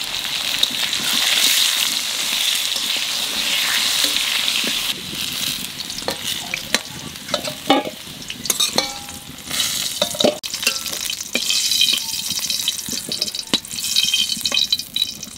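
Potatoes fry in hot oil with a dense, rain-like sizzle, joined later by sharp crackles and scraping stirs that come and go over the steady hiss.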